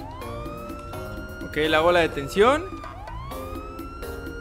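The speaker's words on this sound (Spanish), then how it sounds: "Apago ahora la sirena." A police car siren from the video game GTA V with the LSPDFR mod wails steadily and then breaks into a rapid yelp pattern before the wail resumes, sounding close and loud while someone speaks briefly over it.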